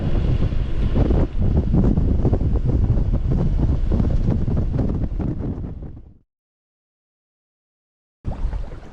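Strong force 6 wind buffets a sailboat, a loud continuous roar of gusting air and rushing water that cuts off abruptly, falls silent, then returns near the end.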